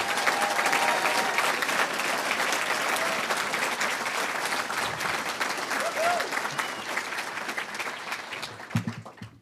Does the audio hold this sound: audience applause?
yes